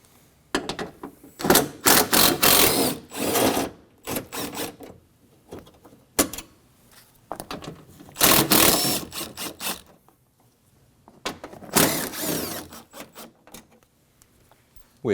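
10mm bolts come out of the window regulator of a 2009-2014 Ford F-150 with a ratchet: several bursts of fast rasping clicks, close and fairly loud, separated by short quiet gaps.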